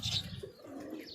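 Pigeons kept as show and flying birds coo softly during the rainy season, a faint low cooing with a brief chirp, distant and alone without talk.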